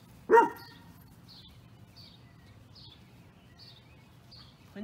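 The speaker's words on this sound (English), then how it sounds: "Quinn's barking." A puppy gives one sharp close bark, followed by quieter rhythmic bird chirps repeating in the background and a short sound at the end.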